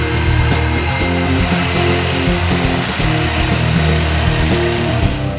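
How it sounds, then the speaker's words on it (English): A power tool cuts a straight exhaust pipe to length during a Bully Dog exhaust install on a Ford Power Stroke 6.0L, giving a loud, steady grinding whine with rhythmic pulses that runs the whole time, with no talk. "Cut the straight pipe to this length."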